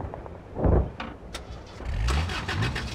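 A car engine starting up in a Call of Duty game, a low rumbling crank that catches and settles into a steady idle over about three seconds, fairly close, with no talk.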